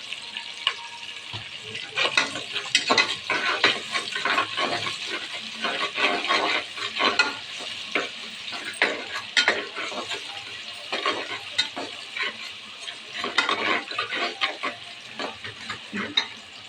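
Onions salted and sautéing in a pan for tomato biryani, with a steady sizzle throughout and frequent scraping, clanking stirs of a ladle against the pan, close and fairly loud.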